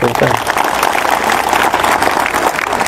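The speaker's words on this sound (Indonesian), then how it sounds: "tepuk tangan dulu untuk kampus, tepuk tangan dulu" An audience at a campus gathering bursts into loud, sustained applause, a thick continuous patter of many hands with a few voices underneath.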